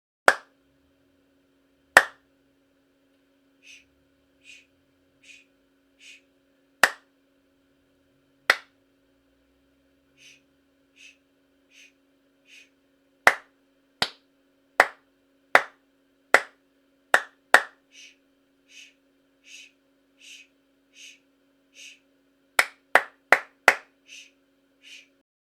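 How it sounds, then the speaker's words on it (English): Hands clapping out a rhythm for a beginner tenor horn lesson: sharp, loud claps with soft counting taps between them, in short groups and pauses, ending in a quick burst of four claps. "Now I'm going to clap the rhythm, thinking of the words in my head"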